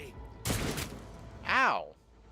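A burst of video game gunfire crackles briefly, followed by a voice line, with a faint background hum in an otherwise quiet scene.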